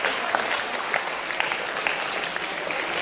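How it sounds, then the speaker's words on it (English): Audience applause for parents at a school dance performance event, a steady wash of many hands clapping throughout, fairly loud and continuous with no voices on top. "So big round of applause to all the parents."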